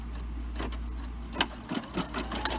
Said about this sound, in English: I'm just going to press start, and it's going to start sewing it out.